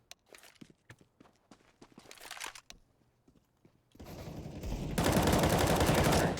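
Gunfire in Counter-Strike on the Dust2 map at a professional match, first scattered shots and footsteps, then a loud sustained automatic burst with steady recoil-controlled rapid fire near the end.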